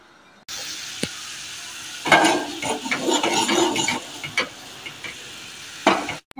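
Spices crackle and sizzle in hot oil in a pan, a bright spluttering burst that fades, with a few sharp clinks of a utensil.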